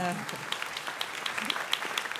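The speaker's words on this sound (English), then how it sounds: "round of applause, please" An audience at a congressional briefing on health care costs applauds, a brief, moderately faint patter of hands with a voice heard at the start.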